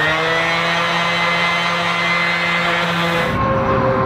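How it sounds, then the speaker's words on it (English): Loud car passing outdoors near a backyard furniture refinishing job, a steady droning engine with strong tonal hum that holds for several seconds then changes as it moves away, close and loud. "Too many loud cars going by."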